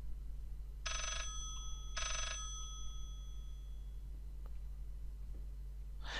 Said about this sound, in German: Anscheinend klingelt das nächste Telefon.